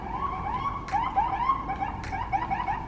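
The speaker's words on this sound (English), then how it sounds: "That's the police sirens for I don't know why." A New York City police siren wails, sweeping up and down continuously over steady traffic noise, loud and fairly close, with two brief bursts of hiss.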